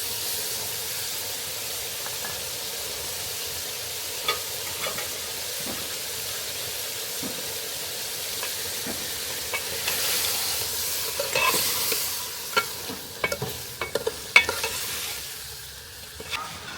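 Chicken and potatoes sizzle steadily in a pan while being stirred for khichuri, the hiss constant throughout and growing busier later with repeated clinks and scrapes of a spoon.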